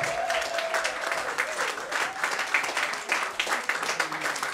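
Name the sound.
congregation applauding in church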